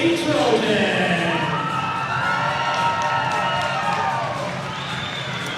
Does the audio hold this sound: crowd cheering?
yes